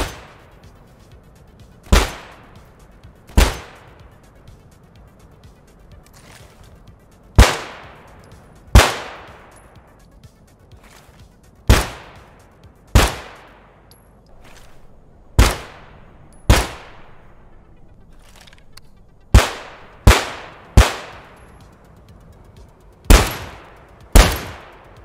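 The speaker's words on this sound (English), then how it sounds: "these gun sounds actually kind of rocked my headset" Sharp, loud gunshots from the video game Ready Or Not ring out one at a time at irregular intervals, each with a short echoing tail, some in quick pairs.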